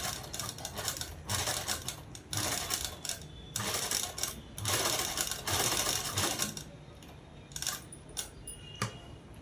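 Sewing machine stitching a collar neck dress, running in rapid whirring bursts of a few seconds each separated by short pauses, close and fairly clear with no talk.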